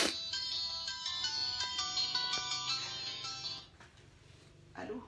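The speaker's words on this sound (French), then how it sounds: "Il y a un appel." A telephone ringtone plays a bright, repeating electronic melody for about four seconds, then fades as a faint voice appears near the end.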